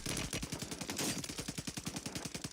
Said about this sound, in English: Getting shot from another angle.